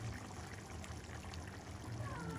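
Whisked yogurt, 250 grams, poured into a mince qeema pan over low heat, a soft continuous trickling pour, faint and close, heard alone without talk.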